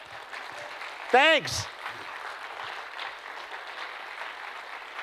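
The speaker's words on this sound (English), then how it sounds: "You can clap for that too if you like." Audience at a motivational talk clapping in a brief, soft patter beneath a speaker's voice, with a short spoken interjection partway through.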